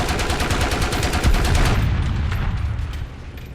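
Rapid machine-gun fire in a video game aimed at a Churchill AVRE tank, a loud continuous burst of closely spaced shots that thins out and fades near the end.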